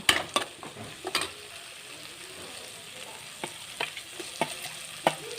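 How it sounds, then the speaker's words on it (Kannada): Cut tomato and onion frying in oil for drumstick gojju, a low constant sizzle broken by sharp, irregular spoon scrapes and taps against the pan. "ಟೊಮೊಟೊ ಮತ್ತು ಈರುಳ್ಳಿ ಚೆನ್ನಾಗಿ ಎಣ್ಣೆಯಲ್ಲಿ ಫ್ರೈ ಆಗಬೇಕು"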